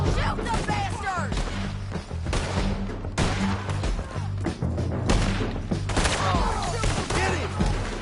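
Rapid bursts of gunfire crack repeatedly in a firefight on a bridge, loud sharp shots stacking into near-continuous volleys, with shouted voices and heavy low rumble beneath.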